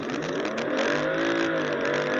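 BMW 545 xDrive G30 LCI sedan making a hard launch-control start in sport mode, its engine roaring loud and continuous as it pulls through the gears toward 100 km/h, heard from inside the cabin.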